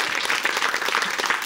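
Steady, dense applause rises from a studio audience during a French talk show, a full and even wash of clapping with no pauses across the short stretch.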